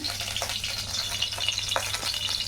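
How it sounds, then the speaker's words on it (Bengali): Oil heating in a wok before tempering spices for home cooking, giving a steady soft sizzle and faint crackle throughout, with no talk. "কড়াইতে তেল চাপিয়ে দিলাম"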